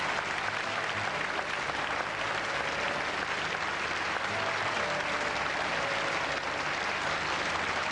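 An audience applauds Miss Bretagne, named second runner-up at a televised beauty pageant: dense, steady clapping from a large crowd, continuous and even for several seconds with no voices standing out.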